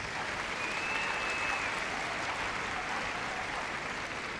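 Audience at the Crufts 2015 dog activities display applauding, a steady dense wash of clapping from a large indoor crowd, held evenly throughout.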